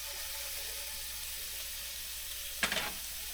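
Food fries in bacon fat with a constant close crackling sizzle, briefly sharpened by a short splattering burst near the end; no one speaks.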